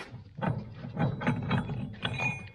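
A lathe machines a bearing for a Chrysler Crossfire rally car, a rough cut whose tool makes faint, rhythmic scraping and clicking bursts that repeat roughly every half second.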